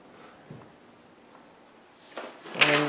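Mirrored sliding closet door in a home's bedroom rolling along its track, a soft rumble building to a louder close near the end, heard alone without talk.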